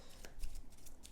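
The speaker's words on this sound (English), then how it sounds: "let's just shuffle the mystery cards" Cards from the Eldritch Horror board game are shuffled by hand in soft, quiet bursts of riffling and flicking close by.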